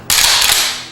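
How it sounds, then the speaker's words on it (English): A single loud, close video game shotgun blast from Turok Evolution, with a sharp onset and a brief decaying roar. "the shotgun that's in the game is kind of a futuristic style shotgun"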